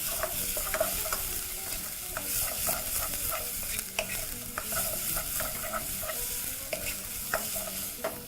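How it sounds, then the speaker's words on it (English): Onions sweating in a pan on medium to low heat sizzle steadily while a utensil stirs them, with repeated scraping clicks close up and no voices. "Cook them continuously on medium to low heat, allowing them to really color gently."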